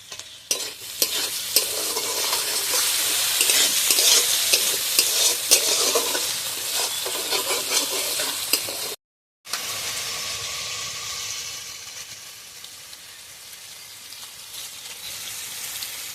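Chopped tomatoes for a pea and potato ghugni fry and get stirred in a pan, a loud crackling sizzle with rapid spatula scrapes, a brief silent gap, then a calmer, fainter simmering hiss.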